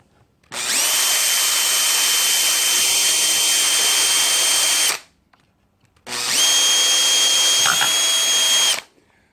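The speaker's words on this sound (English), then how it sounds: "Thought my drill bit was blunt there." Two long bursts of a whining power drill boring holes, close and loud, each running several seconds with a short pause between.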